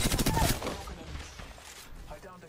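Rapid automatic gunfire from Apex Legends rattles loudly at the start, then trails off into a quieter, muffled pop and a final sharp crack, while a player talks over it.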